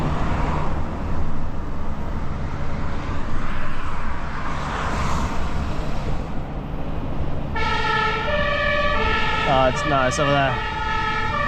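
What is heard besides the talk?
emergency vehicle siren near a motorway accident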